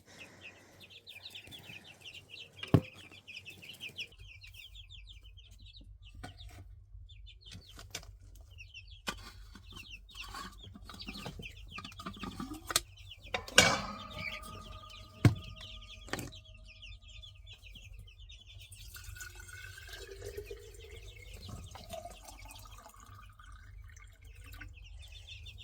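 Chickens housed in a chicken tractor cluck and chirp softly and intermittently, some close and some farther off, with occasional knocks and drips from a waterer in a quiet outdoor setting.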